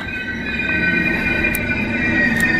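Train at Munich main station, a steady rumbling hum with sustained tonal whine and faint brief squeals, loud and continuous throughout with no talk.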